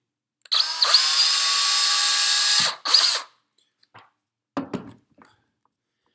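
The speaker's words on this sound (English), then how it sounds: "So I'm going to go ahead and drill a hole in here quick" A small power drill whines for about two seconds drilling a hole in a craft stick, then gives a brief second burst, followed by a few light clicks and taps.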